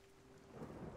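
Rain pours steadily during a thunderstorm in Everybody's Gone to the Rapture, a soft, even hiss that grows slightly fuller toward the end, faint and without speech.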